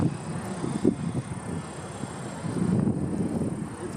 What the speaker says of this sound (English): It's quite windy, you can see that.